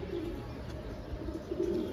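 Fitki pigeons coo close by in low, throaty rolls, with soft chirps around them against a steady background hum.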